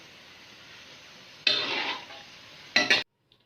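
Fried potato samosas are lifted out of a pan, with two loud bursts of scraping and clattering against the pan over a quiet background hiss, then a faint knock.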